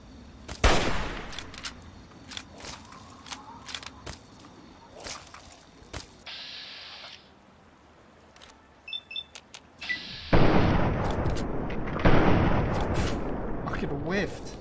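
Gunfire in the video game Fallout 3, scattered sharp shots and cracks, some loud and close, breaking through a player's ongoing talk and other game sounds.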